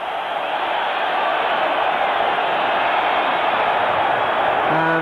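A packed stadium crowd roars steadily at Napoli's ground during a 1986/87 Serie A match against Empoli, a dense, continuous wall of noise with no break. A faint whistle-like tone rises near the end.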